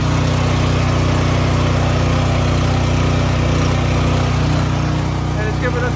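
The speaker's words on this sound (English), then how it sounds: "Now the generator is running." A Duromax home generator runs steadily nearby with a loud, constant engine drone and hum that stays even from start to finish.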